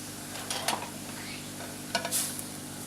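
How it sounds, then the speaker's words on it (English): Chicken stir-fries in a hot pan with salt, a low constant sizzle broken by two short scraping stirs of a utensil against the pan, heard close with no talking. "We're going to stir fry it for about 4 to 5 minutes."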